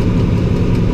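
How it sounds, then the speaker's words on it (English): Steady low engine drone of a tractor running an old-type forage chopper during haymaking, a continuous loud rumble with no pauses and no voices. "We're actually just running the one tractor and old type chopper."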